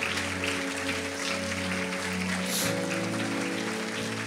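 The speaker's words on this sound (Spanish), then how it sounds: "¿Por qué la iglesia no le da un aplauso al Señor Jesucristo por estas vidas que están acá?" Church congregation applauding during a worship service, a steady wash of clapping layered over sustained organ or keyboard tones that hold throughout.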